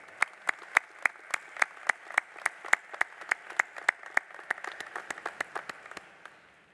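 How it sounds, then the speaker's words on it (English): Rhythmic, evenly spaced clapping rings out at a nursing college commencement as faculty are honored, about two dozen crisp claps in a steady beat that thins toward the end, with sparse clapping around them. "Please join me in applauding to them."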